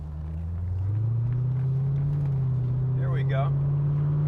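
A 1989 Chevrolet Corvette driving with a low steady engine drone that rises in pitch and holds as it pulls through a smooth gear shift, heard from inside the car, with someone speaking briefly near the end.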